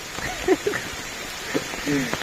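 Steady rain patters all around at close range during a downpour on a road trip, a constant hiss with scattered drops, while someone speaks briefly over it.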